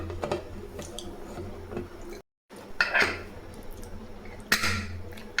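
A lid goes onto a pressure cooker of boiling tomato and dal rice in a home kitchen, with a clear metallic clatter of pot and lid near the middle and another near the end, over a steady cooking hiss.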